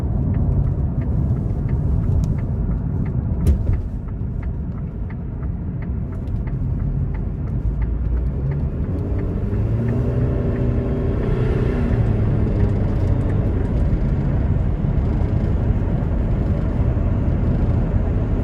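A 2018 Karma Revero in sport mode accelerates up an interstate on-ramp, a steady low rumble of drivetrain and road noise from inside the cabin rising and holding throughout, with no talking.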